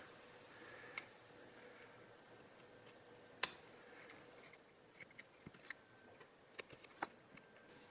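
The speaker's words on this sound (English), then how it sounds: "I will just trim a base gasket to match the base of the cylinder." Scissors trim a motorcycle cylinder base gasket for an RZ350, producing faint, quiet snips and small clicks, with one sharper snap midway and a cluster of light cuts toward the end.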